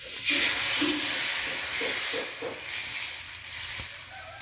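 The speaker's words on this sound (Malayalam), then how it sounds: "ഇനി നമുക്ക് ഓരോന്നായിട്ട് അപ്പം ചുട്ടെടുക്കാം" Appam batter sizzles and hisses steadily in a hot pan, a close, continuous frying sound with faint soft clinks.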